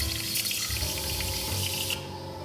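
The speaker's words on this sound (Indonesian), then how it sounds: "gue akan masukkan thinnernya lagi. Udah gitu gue bakal buat gelembung lagi" Thinner is back-flushed through an airbrush to make bubbles while cleaning it after Gunpla model painting, giving a steady close hissing, gurgling rush of liquid and air that stops abruptly near the end.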